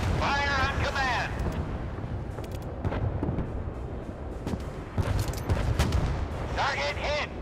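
Naval guns firing in a warship combat video game, deep booming blasts and rumbling explosions under synthetic radio-style voice announcements near the start and end.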